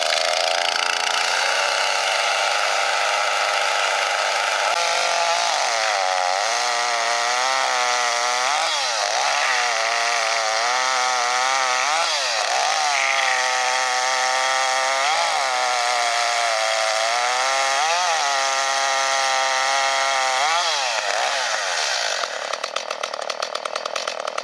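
An ECHO CS 310 gas chainsaw runs loud and close, its engine revving up and down in repeated bursts with a raspy two-stroke whine as it cuts wood, then settles near the end.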